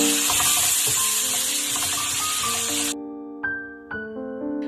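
Asafoetida and salt sizzle loudly in hot sesame oil for Kollu rasam, a dense close frying crackle that cuts off abruptly, followed by quiet clinks and scrapes of a utensil.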